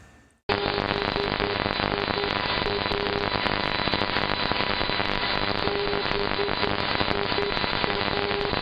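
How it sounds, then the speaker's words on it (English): Non-directional beacon heard over shortwave, its Morse identifier keyed as a steady tone in repeating dots and dashes under a dense, loud wash of buzzing pulse noise and static that fills the whole stretch after a brief quiet start. "you will hear a non-directional beacon giving its Morse identifier, and there's plenty of pulse noise on the frequency"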